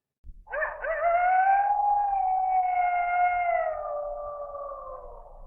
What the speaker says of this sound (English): Outside you hear a large clattering and rending metal, and you hear a yip.